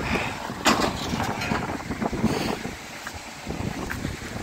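Strong hurricane wind roars steadily and buffets the microphone outdoors, a loud continuous rush with gusty surges and no clear speech.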